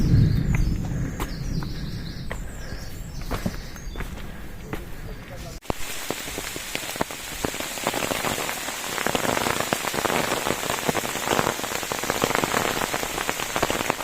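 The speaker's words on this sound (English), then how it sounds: "Very heavy rain." Heavy rain pours down steadily on a mountain trail on Hallasan, a dense hiss with scattered fat drops pattering close by, growing louder and fuller partway through.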